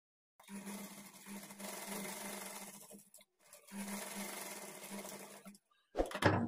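A sewing machine stitches along the hook strip of a blouse in two sustained, even runs separated by a brief pause, followed by a sharp rustling clatter at the end.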